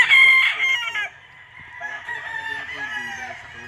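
A White Kelso gamecock stag crowing in a pen at a game farm, one loud close crow with a drawn-out tail, alone without talk.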